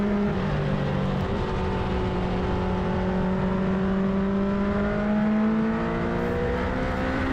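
A race car laps a greasy circuit at a supersprint event, its engine droning loud and steady from onboard with rising and falling pitch as it accelerates and shifts, no voices.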